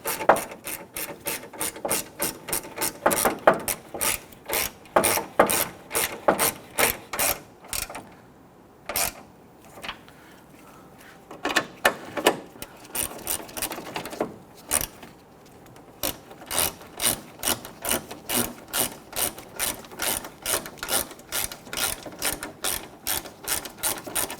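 Hand ratchet tightening bolts on the grille of a 2006-2010 Hummer H3, a close, steady train of sharp clicking strokes in bursts, with a brief pause partway through.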